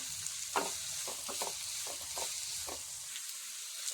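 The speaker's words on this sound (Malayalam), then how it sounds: "അതിലേക്കൊരു 1/4 സ്പൂൺ ഉപ്പ് പൊടി ചേർത്ത് വഴറ്റി കൊടുക്കാം" Curry ingredients sautéing in a pan with a little salt, a steady close sizzle broken by repeated scraping stirs of a spoon against the pan, with no talking.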